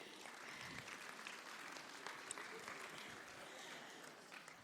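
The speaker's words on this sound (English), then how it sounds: "Let's give him a clap, shall we?" Steady applause from a church congregation at an Easter Sunday service, a dense wash of clapping that holds at an even level throughout, with no voices standing out.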